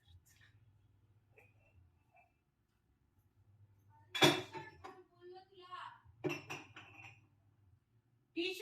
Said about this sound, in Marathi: चला आता एवढी भांडी लावून देते